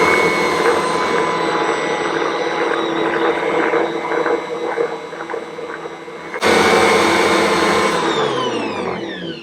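An Ankarsrum stand mixer beats eggs into cake batter with a loud, steady motor whir, which dips briefly and then surges louder again before easing off near the end.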